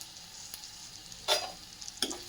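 Methi sabzi with red chilli and salt sautéing in a pan, a faint low sizzle with two brief scraping stirs, fairly close and with no voices.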